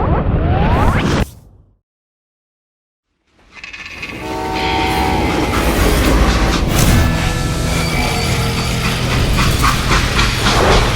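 A freight train in the video game Call of Juarez: Gunslinger roars loudly close by, with a whoosh and horn blasts, breaking off into near silence before the rumble and clatter of the cars return at full strength.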